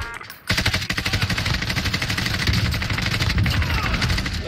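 Rapid automatic gunfire from the shooter game Call of Duty Modern Warfare, loud and sustained after a brief quiet start, with dense repeated bursts filling the whole stretch.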